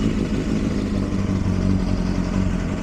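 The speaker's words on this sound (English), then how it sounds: "Right, we're on choke, bike is running." Kawasaki ZXR400 motorcycle engine running on choke, a steady close, busy mid-pitched idle with a faint mechanical clatter, with no talk.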